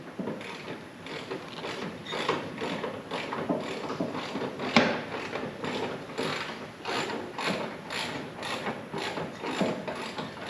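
A bolt is run in with a ratcheting tool on a winch job, a steady series of close mechanical clicks and gear-like ratchet strokes repeating evenly, with no talking.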